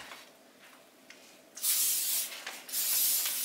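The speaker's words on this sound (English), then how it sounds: "I'ma spray it just to make sure." Spray bottle being squeezed in short hissing bursts: faint puffs at first, then two loud, close sprays lasting about a second each.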